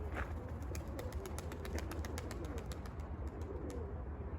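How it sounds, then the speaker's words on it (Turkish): Pigeons gather outdoors at dusk, low cooing and soft bird calls at moderate distance over faint background noise, with a rapid series of light clicks or wing flutters. "Tabii yerde çok kuş var."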